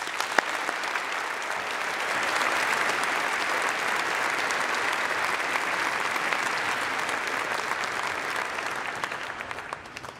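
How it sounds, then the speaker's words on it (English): Sustained audience applause at a Faculty of Engineering commemoration ceremony for electrical and electronic engineering graduates, broad even clapping from a large crowd lasting about ten seconds with no talk over it. "please join me in a round of applause to all their graduates"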